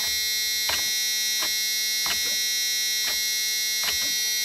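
Truck ignition buzzer sounding after an old-style key is turned in a truck that won't start, a loud continuous electric buzz with several faint clicks or ticks spaced under a second apart, no engine cranking and no talk.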